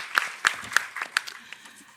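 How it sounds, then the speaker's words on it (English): A small group in a meeting room at an editors' annual general meeting gives brief, sparse applause: a handful of distinct, crisp claps at an uneven rhythm, fading out within two seconds. "let's give us all a round of applause"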